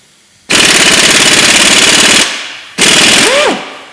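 Impact wrench rattling out the tight crankshaft carrier bolts on an oil-starved 2-litre Ford Duratec engine: a loud, fast hammering burst of about two seconds, a short pause, then a second burst winding down.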